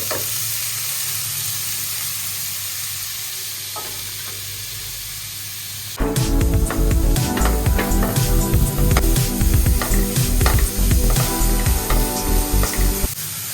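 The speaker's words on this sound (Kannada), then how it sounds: "ಈಗ ಸಣ್ಣಗೆ ತುರಿದಿರೋ ಕ್ಯಾರೆಟ್ನ ನಾನು ತುಪ್ಪದಲ್ಲಿ ಹಾಗೆ ಫ್ರೈ ಮಾಡ್ಕೊತಾ ಇದ್ದೀನಿ" Finely grated carrot frying in ghee for carrot halva: a soft hiss at first, then from midway a loud, dense crackling sizzle with scraping stirs, close and continuous, no talking.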